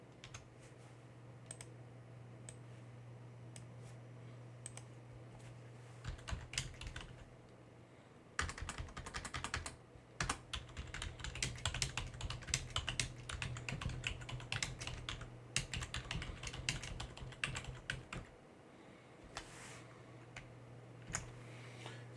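Keys clatter on a computer keyboard as commands are typed into a Linux terminal, bursts of close, rapid clicking that start sparse, then grow dense and steady before tapering off, over a low constant hum.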